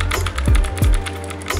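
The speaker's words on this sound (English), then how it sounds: "See, I'm typing." Keys tapped on a Royal Kludge wireless keyboard, a few distinct close clicks with short pauses between them in a quiet room.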